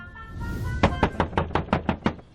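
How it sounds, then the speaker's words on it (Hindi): Loud, rapid knocks on a door, about seven sharp raps in an even rhythm, close by, coming after a brief rising noise. "जब हमारा दरवाजा जोर जोर से बजा"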